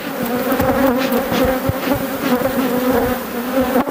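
Honeybees buzzing around an open beehive on a hot day in Bordeaux, a dense, steady swarm drone close by with individual bees flitting past, heard alone.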